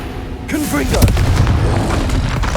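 A Confringo exploding spell blast in Hogwarts Legacy on PS5 bursts out loud and booming, with a dense roar that carries through the clip amid layered game effects and a voice.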